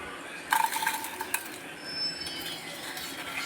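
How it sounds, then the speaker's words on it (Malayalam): Fried sweet potato chips are scooped out of hot oil with a metal utensil, giving a quick cluster of bright clinks and scrapes over a soft, faint sizzle, with no voices. "ഇത് നമുക്ക് എണ്ണയിൽ നിന്നും കോരി മാറ്റാം"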